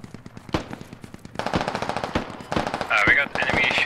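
Enemy machine gun fire in the military shooter game Squad, with rapid repeated bursts of loud close shots and sharp cracks, a high whine of rounds passing, and a voice briefly audible underneath.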